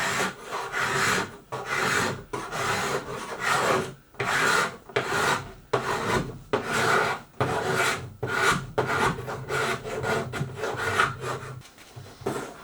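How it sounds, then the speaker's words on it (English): A carbide scraper drawn repeatedly across solid oak to strip old finish, loud rasping strokes in a steady back-and-forth rhythm, close up with no talking. "I used a carbide scraper to remove the finish from the structural pieces"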